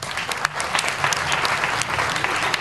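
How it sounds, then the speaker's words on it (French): Applause for the queen of a festival, a dense crowd clapping loudly and steadily throughout with no pauses and no talk over it. "de grands applaudissements."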